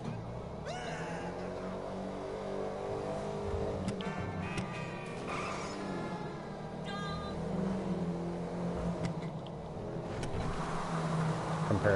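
A car engine in a racing video game revs and pulls hard through long, rough-shifting gears, with rising and falling engine tones between shifts and brief spoken commentary over it.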